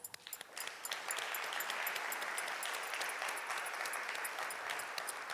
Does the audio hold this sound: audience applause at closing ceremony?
yes